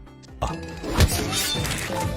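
Objects thrown at a glass of water at a restaurant table, a sharp clattering impact followed by a short crash and lingering rattle, nearby against a murmuring background.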